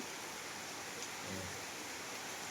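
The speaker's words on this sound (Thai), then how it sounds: "เริ่มฝนสิตกแล้วเนาะ" Steady rain falling outdoors, a soft, even hiss with faint patter, fairly quiet and constant throughout.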